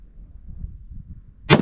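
A single sharp, loud report from a Ruger American .308 rifle fired at a shooting range cracks out near the end after a low, rumbling stretch of background noise.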